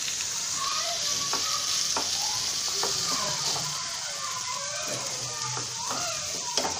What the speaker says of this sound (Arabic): صافي كنخليو هذا كيتشحر الخيزو ديالنا.